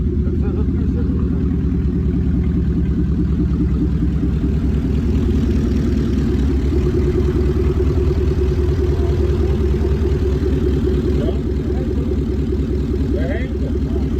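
A hybrid Porsche–Nissan car engine, on its first start, idles steadily and loudly up close, a low rumbling drone that holds for the whole stretch.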